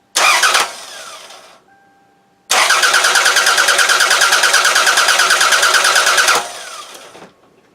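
A 1997 Toyota Camry engine, after valve shim replacement, cranks briefly and stalls, then after a pause cranks again with a rhythmic churning for several seconds before cutting out.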